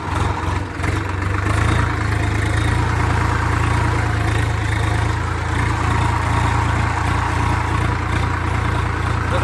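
A Swaraj 744 XT tractor engine running steadily nearby, a loud low rumbling drone that holds constant throughout with no talking.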